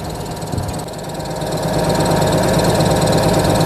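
A Skaut TB-904C tractor's engine idles close by with a steady, rough diesel rumble and rattle that grows slightly louder and holds.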